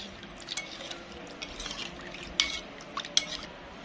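A spoon stirs a watery seasoning marinade for KFC-style fried chicken in a bowl, with quiet swishing broken by a few sharp clinks of metal against the bowl, close up and without talk.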